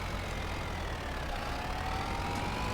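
Vehicle engine held just above idle with a touch of throttle, a steady low rumble with a faint rising tone, close and continuous with no talking.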